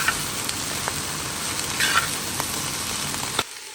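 Cabbage sizzles and crackles steadily in a hot pan while it is stirred, with faint scraping taps over the dense frying hiss, close and loud.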